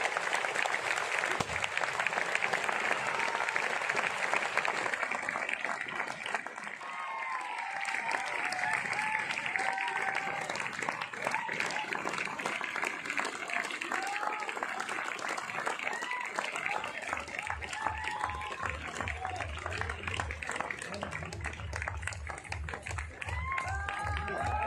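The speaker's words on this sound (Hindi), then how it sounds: "तो इन लोगों के लिए जोरदार तालियां होनी चाहिए।" Sustained, loud audience applause at a stage event fills the whole stretch, with a crowd clapping steadily throughout and voices mixed in underneath.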